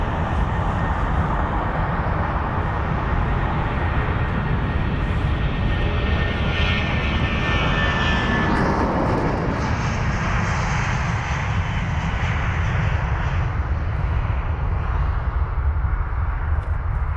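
An American Airlines Boeing 777-200ER rolls for departure on the runway at London Heathrow, its jet engines producing a loud, steady roar that swells and shifts in pitch as the aircraft passes, with no voices present.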